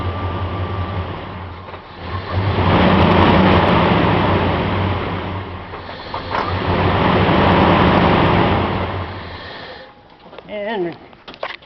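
The 5.2 engine of a 1999 Dodge Ram 1500 with a bad crank sensor runs with a loud, steady rumble, surges, then cuts out and dies near the end, leaving brief rattles and quieter noise.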